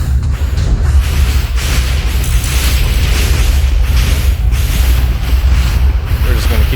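Withers being shot at in the video game Minecraft, a constant loud rumble of booming explosions and blasts with a heavy low roar filling the whole stretch, a voice faintly under it.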